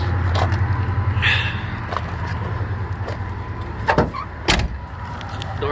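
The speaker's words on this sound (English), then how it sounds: "Door closes okay." A door on a 1973 Plymouth Duster in a junkyard swings shut, a couple of sharp thumps near the four- to five-second mark over a steady low rumble of background noise.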